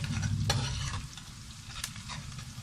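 Sabudana khichdi mixture stirred and frying in a flat pan over low flame, a steady close sizzle with the scrape of a spoon moving through it, no voices.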